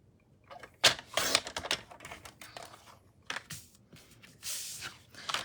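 Paper cash envelopes being cut down to 8 inches, a close series of irregular crisp snips and rustles, moderately loud and fairly rapid, with no talking.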